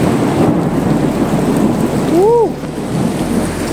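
Heavy rain roars in a dense, constant wash with low thunder rumbling underneath during a bicycle trip in Italy, while a voice briefly exclaims partway through.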